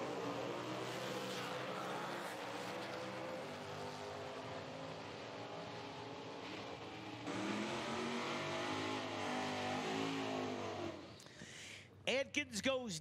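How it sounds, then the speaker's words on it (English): A Camaro and a 1969 AMX at an IHRA Outlaw Nitro Series Pro Am drag race give a long, steady engine roar, with sharp revving sweeps rising near the end. "That's the left lane, John. That's the Camaro. Right lane, Adkins, 69 AMX."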